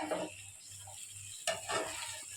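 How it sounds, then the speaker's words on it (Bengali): Quiet sizzling of food frying lightly in white oil in a covered pan, with a few soft scrapes and stirring clatters breaking through the low crackle. "ঢাকা দিয়ে দিয়ে একটু করে হালকা ভাজা ভাজা করছে"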